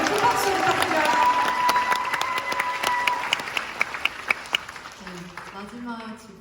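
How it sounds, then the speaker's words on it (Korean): Audience applause at a Busan International Film Festival Q&A for the film Broker, a full crowd clapping loudly that thins to scattered claps, with a voice speaking over the tail. "여러분 큰 박수 부탁드려요"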